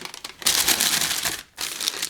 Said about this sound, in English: It's additionally packed in some paper, and this gives some noise here to the video,